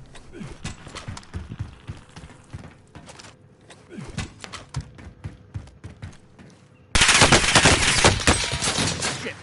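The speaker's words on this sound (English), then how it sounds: "Where am I getting shot at from?" Gunfire in the Warzone video game on Rebirth Island, a run of sharp shots and bursts at varying distance, growing into a dense, loud volley of fire near the end.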